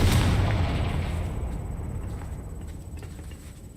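Confringo fire spell explosion in Hogwarts Legacy, a heavy booming blast at the start with a long rumbling decay that fades gradually, with scattered small crackles.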